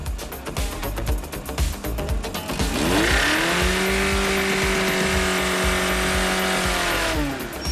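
A car revs roughly and then brakes abruptly, its tires letting out a long, loud, wavering squeal that holds for about four seconds before cutting off.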